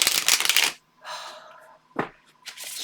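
A tarot deck with bendy Llewellyn cardstock is shuffled close up, giving a loud riffling burst, a pause, a softer shuffle, then a sharp snap and another riffle.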